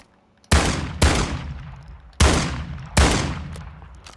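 Four booming shotgun blasts from Call of Duty Modern Warfare II fire in an uneven, rapid sequence, each loud and close with a ringing decay, and no voices.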